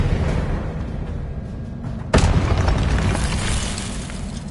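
The Confringo fire spell in Hogwarts Legacy bursts with a sudden loud explosive boom that cuts through a dense rumbling background and leaves a roaring wash of noise behind it.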